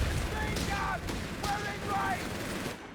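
Mortar and machine gun fire in Company of Heroes 3, a steady run of gunfire bursts and thuds under a voice talking throughout the battle.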